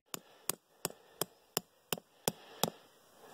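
Sharp hammer blows drive a stake into frozen ground for a tipi cover, eight evenly spaced strikes about a third of a second apart, close and crisp with nothing else heard.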